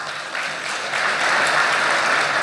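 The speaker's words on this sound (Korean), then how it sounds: "박수 한번 칠까요?" Applause from an audience at a network marketing mindset lecture, a dense wash of clapping that swells louder partway through and holds steady to the end.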